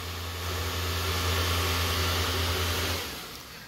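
Small electric fans on a custom lawn mower oil cooler kit blowing air: a steady close whirring hum with a broad airy hiss, cutting off near the end.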